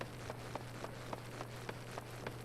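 Rain falling in the video game Final Fantasy XIV, a soft steady patter with faint regular ticks over a constant low hum, quiet and without talk.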